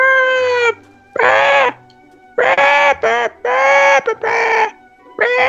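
Loud, close Minecraft chicken clucking in repeated bursts with short gaps, a hen just after laying an egg in the game, with no talking.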